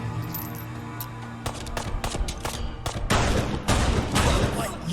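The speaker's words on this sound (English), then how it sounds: "Let me get my pistol." Sharp pistol shots in a video game ring out in an irregular string of close, loud cracks, with faint clinking and ambient hum between bursts and no talking.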